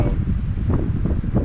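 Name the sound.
wind whipping off the river over a rock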